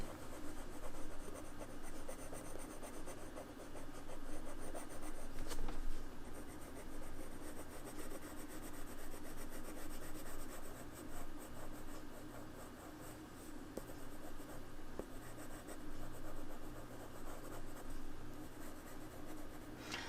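Steady, close scratching and rubbing of Black Widow wax coloured pencils on rough textured paper, continuous strokes with a gritty texture and no talking.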